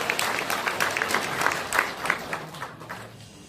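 A crowd claps in welcome as National Assembly member Yoon Kun-young arrives at a political event. The crisp, dense applause holds steady and then thins out toward the end.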